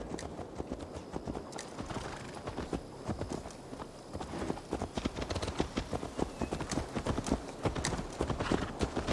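Horse hooves clip-clop steadily in Assassin's Creed Valhalla, a continuous rhythmic run of hoofbeats that grows denser and louder toward the end, with faint ambient game sound beneath.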